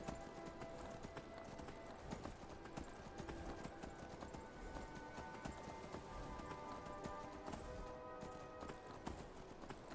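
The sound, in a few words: horse hooves clip-clopping in Skyrim video game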